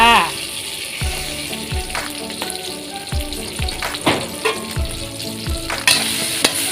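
Thai jungle curry paste frying in vegetable oil, a strong continuous sizzle with repeated scraping stir strokes of a spatula against the pan, close and loud, with a voice speaking briefly over it.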